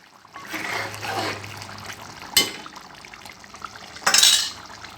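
A spoon scrapes and clanks against a metal pot while mutton curry is stirred, with a soft wet churning throughout and two sharper scraping strikes near the end.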